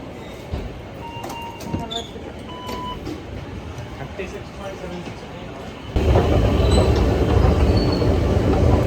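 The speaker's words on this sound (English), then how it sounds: "I'm gonna hop on a train and back to Leiden" Train ride from Amsterdam Central Station to Leiden, with steady rolling rumble and occasional wheel squeals and clicks, the noise swelling louder partway through as the carriage picks up, voices faintly present.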